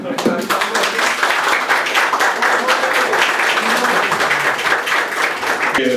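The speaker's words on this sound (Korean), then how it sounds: "박수로 한번 다시 한번 하는 거예요" Audience applause during a visit to Asan by a People Power Party leader, a crowd clapping steadily while voices talk over it.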